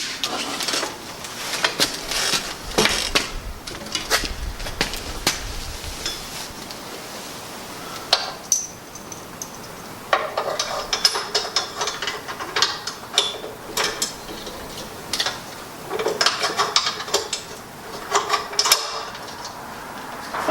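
A Yakima bicycle carrier on a vehicle is swung back up and locked into position, giving scattered mechanical clicks, ratcheting and clunks over about twenty seconds, moderately close with quiet gaps between bursts.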